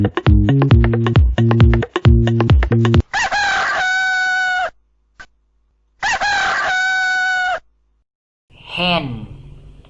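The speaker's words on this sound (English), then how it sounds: "Rooster, rooster." A rooster crows loudly and close by, two long cock-a-doodle-doo calls after a short musical jingle, followed by a brief squawk at the end.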